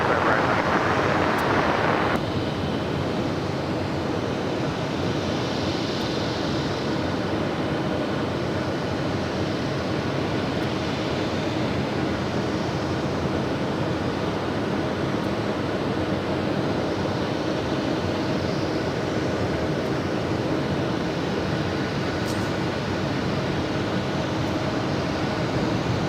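Delta Air Lines Boeing 767-300ER taking off from runway 25 right at LAX, a broad steady jet roar rushing like wind that holds loud and distant throughout, without speech.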